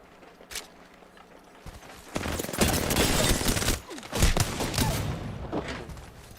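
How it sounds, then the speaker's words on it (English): Video game gunfire crackles in sharp bursts, some distant single shots early on, then longer loud rattling volleys close by. "I'm taking shots."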